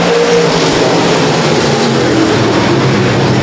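A field of USRA stock cars roars off at the green flag of a heat race on a speedway track, a loud dense wall of engine noise sustained throughout.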